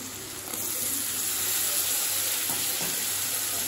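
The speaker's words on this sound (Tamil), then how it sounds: "இப்போ எல்லாத்தையும் சேர்த்துட்டு ஒரு நிமிஷம் வரைக்கும் நல்லா வதக்கிக்கலாம்" Carrot, beans, peas and potato sauté together in a pan for a vegetable kurma, giving a steady, close hiss of sizzling throughout with faint stirring.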